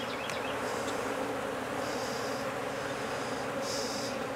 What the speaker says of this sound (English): And lots of bees.